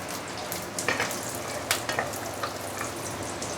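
Salted mustard greens (ham choy) sauté in a hot pan with a close, crackling sizzle, broken by short scraping and stirring bursts from a utensil, with no talking.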